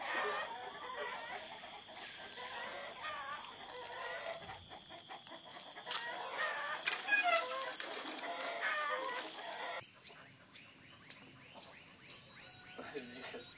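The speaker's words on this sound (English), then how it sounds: "this young man attends his chickens" Chickens cluck and squawk steadily nearby, a busy flock chattering with occasional sharper calls over a rustling background.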